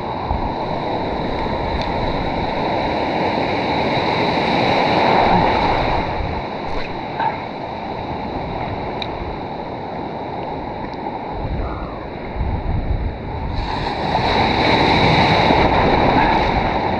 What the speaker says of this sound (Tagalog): Ay laki ng mga alon.